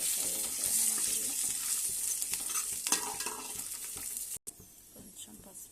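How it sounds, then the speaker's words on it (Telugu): Ingredients sizzle steadily as they fry in a pan with a little oil and salt, a spoon or spatula stirring and scraping throughout; the sound runs continuous and close, with a brief break near the end. "మంచిగా ఫ్రై అవుతుంది అన్నమాట"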